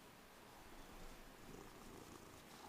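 A cat purrs very softly and steadily, a faint, continuous low rumble close by with no other sounds over it.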